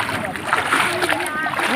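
People bathing in the sea splash about in the water close by, with irregular splatters and sloshes under cheerful talk.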